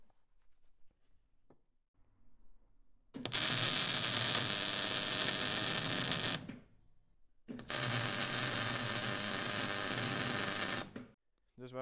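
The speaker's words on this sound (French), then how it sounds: "J'ai réalisé ici un point de soudure simple. Cela signifie que je soude en un point." Two separate bursts of spot welding on a café racer motorcycle's new rear frame, each a loud, close, steady crackling buzz lasting about three seconds, with quiet gaps between them.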